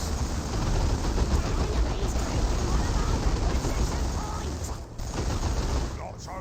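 Dense sustained automatic gunfire raking a power node in the strategy game Dawn of War 2, a loud continuous fusillade of rapid shots with a brief lull near the end.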